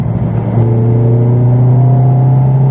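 Ferrari engine pulling steadily under light throttle on the Silverstone circuit, a loud, close, even drone with a low steady tone and rising harmonics, no talk over it.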